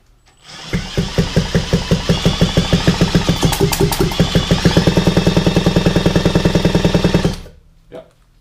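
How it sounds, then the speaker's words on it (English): Engine cranking and firing after an Ignitech ignition install, a loud rapid train of evenly spaced thumping pulses that runs for several seconds and then cuts off, followed by a single softer thump and quiet. "So now the engine should start pumping"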